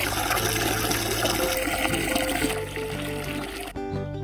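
Water runs and trickles outdoors on a small farm with chickens, a steady wash of flow heard close under sustained background music.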